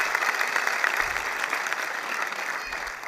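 Audience applause at a Tamil comedy speech event, honouring fans seated on the steps: steady, dense clapping from a large crowd filling the whole moment at a consistent loud level, with no talking over it.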